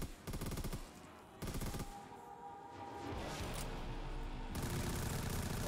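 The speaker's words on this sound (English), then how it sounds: "Oh, this is an SMG, I'm dead." An SMG fires in Black Ops 3 custom Zombies on the Mirage map, rapid bursts of automatic fire in several loud stretches, with quieter ambient game sound between bursts and a final sustained volley.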